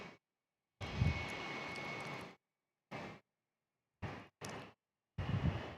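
A JetBlue airliner at San Diego International Airport, its engine roar heard in several separate bursts of broadband rumble and hiss broken by sharp silent gaps, moderately loud and fairly distant.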